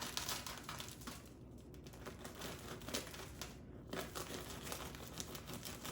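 A knife saws through a loaf of hot, very crusty toasted bread, giving a close, steady run of dry crackling and crunching crumbs over several seconds with no talking.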